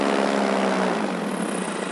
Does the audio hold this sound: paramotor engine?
yes